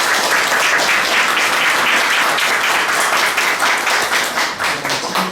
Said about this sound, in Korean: 감사의 박수를 먼저 해주십시오.